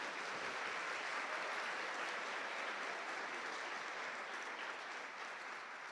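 A church congregation applauds during a Pentecostal-style sermon, a dense, even wash of clapping that holds steady and fills the room for several seconds, with no speech over it.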